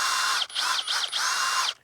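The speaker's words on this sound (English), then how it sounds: "all you got to do with a little small little drill is take that and drill a hole" A small electric drill boring through a fence post insulator whines loudly and close up in three bursts with brief dips between them, its pitch wavering as the bit bites the material.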